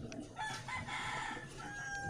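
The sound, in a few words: rooster crowing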